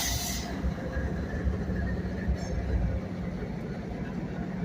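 A freight train of grain cars and gondolas rolls past close by at Abbeville, a continuous heavy rumble with wheel clatter and a brief hiss at the start.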